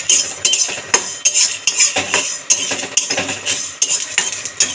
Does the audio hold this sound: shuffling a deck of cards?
no